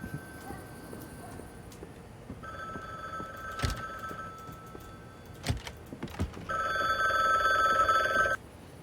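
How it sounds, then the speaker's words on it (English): A telephone rings in the video game The Bookwalker: Thief of Tales, two bursts of electronic ringing separated by a pause, with a few sharp clicks and thumps in between and no talk. "Answer our phone."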